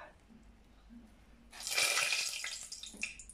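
Tap water runs loudly into a sink or bowl for wetting hands while shaping risen fritter dough, a steady splashing stream that starts partway through after a quieter stretch.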